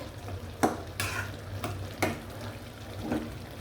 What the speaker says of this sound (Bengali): এখন আমি তরকারিটা লাড়া দিয়ে দিব।